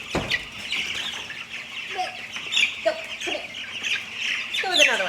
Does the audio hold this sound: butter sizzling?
no